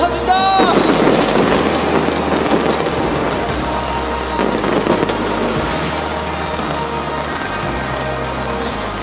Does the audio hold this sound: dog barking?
no